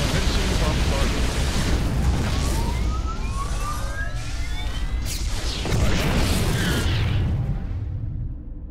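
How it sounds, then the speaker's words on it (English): Orbital bombardment in the StarCraft II campaign, a sustained roaring rumble of heavy explosions with whistling, descending shell tones layered over it, loud and continuous, briefly broken by game voice lines. "Commencing bombardment."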